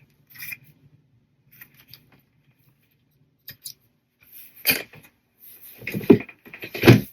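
Fabric edges of a sewn mini wallet trimmed with scissors, a few sparse soft snips and rustles at first, then a denser cluster of sharper close cuts toward the end, no speech.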